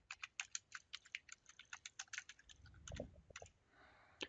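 Someone types on a computer keyboard, a quick irregular run of crisp, close key clicks followed by a few slower presses and a heavier thump, in a quiet room.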